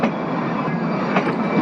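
The Kalka–Shimla toy train runs near tunnel 92 past Tara Devi station, giving a steady, loud broadband rumble and rush of wheels and carriage noise without pause, with faint rattles near the end.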